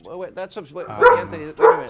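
Dogs bark and yip indoors, a few sharp bursts mixed in with someone talking over them.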